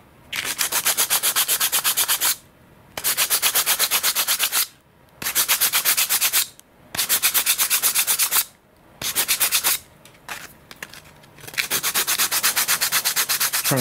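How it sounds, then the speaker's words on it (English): Sandpaper rubs back and forth by hand, cutting a chamfer into the bottom of an Eternity F5J glider's frame, in six long rhythmic bursts with brief pauses between them, close and loud. "Trying to sand the chamfer into the bottom of the frame."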